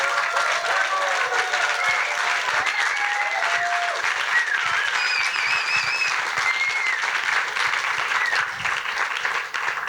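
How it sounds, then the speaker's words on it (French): Steady applause from a theatre audience greeting the candidates of a science-communication contest held by the universities of Fribourg and Neuchâtel, dense and continuous for the full ten seconds, with faint whistles and cheers rising above the clapping. "Applaudissez-les."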